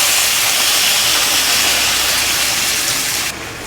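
Sliced onions hit hot oil with mustard seeds and cumin already spluttering in the pan for a ridged gourd and toor dal kootu. A loud, steady sizzle goes on for several seconds and drops off sharply near the end.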